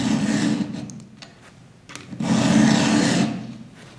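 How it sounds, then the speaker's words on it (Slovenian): A round file strokes across a chainsaw chain tooth, two long rasping scrapes separated by a quieter pause with faint ticks, close and fairly loud with no speech. "Smer brušenja je vedno od dna proti vrhu zoba."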